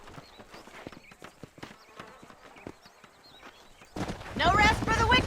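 Horse hooves clip-clop in the Western game Red Dead Redemption as a rider travels outside Armadillo, a steady rhythmic trot at moderate distance. A voice cuts in near the end over the hoofbeats.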